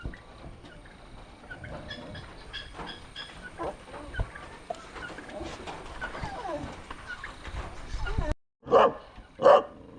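A few loud dachshund barks ring out near the end after a stretch of busy background noise on a Kerala farm, with chatter and pigeon and bird calls.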